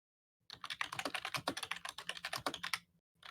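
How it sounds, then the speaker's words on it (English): Fast, steady typing on a computer keyboard, close and fairly loud, a dense run of crisp key clicks lasting a few seconds before stopping, with a brief burst of keys resuming at the end; no talking. "I love the typing noises"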